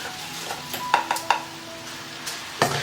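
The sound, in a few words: stir-frying rice with seasonings in a wok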